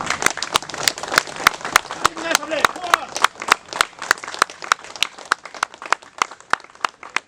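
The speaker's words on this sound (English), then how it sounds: "I would like everybody to give a standing ovation and a good round of applause." Applause at a Gurkha rally, a sparse crowd clapping in distinct, uneven claps that thin toward a rhythmic pattern, with a voice speaking briefly over the clapping.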